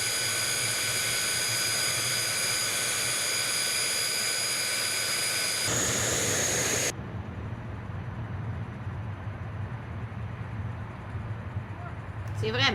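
A Su-25 jet aircraft's engine roars steadily with a loud high-pitched whine that shifts partway through, with a voice heard over it.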